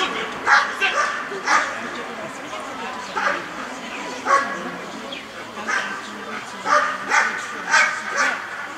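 A police service dog barks in short repeated bursts, fairly close, outdoors on a football field at a children's summer camp, while a voice talks over it.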